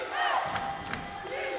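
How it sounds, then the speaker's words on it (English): A crowd at a women's college basketball game chants and cheers from the rafters, a distant, reverberant swell of voices rising and falling across the arena. "Energy starting to really come from the crowd to the court as chants of defense start to rain down out"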